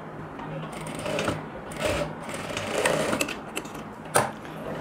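A sewing machine runs in short bursts while stitching cut blouse pieces together, the steady mechanical whir rising and falling with faint background noise between runs.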